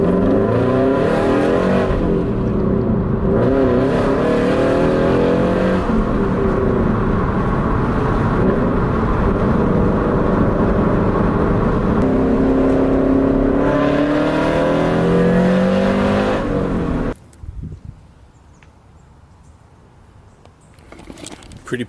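A Subaru BRZ running an OFT Stage 2+ tune revs its exhaust repeatedly, loud and close, with rising and falling engine pitch before cutting off abruptly to near quiet at the end.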